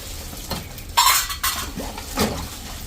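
Pots and vessels being washed clank and clink together, with a sharp metallic clatter near the start and a few softer knocks and scrapes after, close and fairly loud over a low background hiss.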